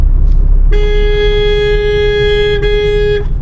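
A car horn gives one sustained light honk of about two and a half seconds with a tiny dip partway, sounding over steady road and engine rumble while overtaking in congested traffic.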